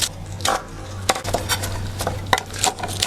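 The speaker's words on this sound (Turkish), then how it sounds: "ıspanaklarımı şöyle ince ince doğrayacağım" A knife finely chops spinach on a cutting board in a few quick, irregular taps, close and fairly quiet.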